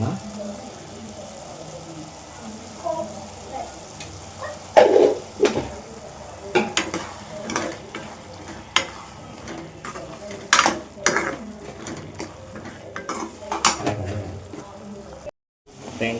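Cooked tomatoes are mashed in a pan for tomato gojju, with irregular close knocks and scrapes of a utensil against metal, some sharper clatters, and a near-silent break at the end.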